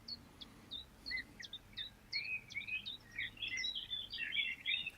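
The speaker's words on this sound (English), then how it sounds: "Nice birds in the background" Several birds sing and chirp in a spring outdoor setting, a steady run of short high tweets and calls, fairly faint and distant, growing busier over a low background rumble.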